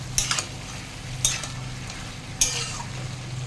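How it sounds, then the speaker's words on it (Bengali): Ginger-garlic paste frying in a pan for a bottle gourd and prawn curry: a soft low sizzle with a faint hum, punctuated by a sharp metallic clink of a stirring spoon roughly every second. "একটু আদা রসুন দিয়ে ভেজে নিয়ে"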